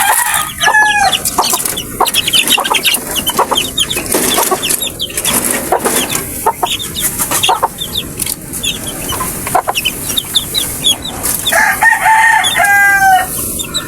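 Hens cluck repeatedly nearby, with short bursts of rapid, rising calls and other chickens chattering in the background.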